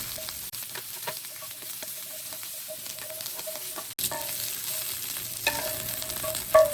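Spring onion whites sauté in hot oil in a pan, giving a steady, gentle sizzle with soft stirring scrapes and a few sharper clinks, close and without talk.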